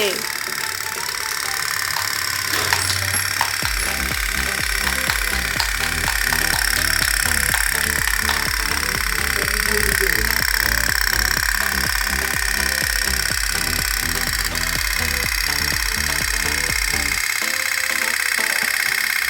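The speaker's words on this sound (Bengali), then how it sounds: "নৌকা চলছে" A country boat's motor runs loudly close by, thudding in a steady rapid knock for most of the stretch before it cuts out near the end. Talk and background voices carry over it.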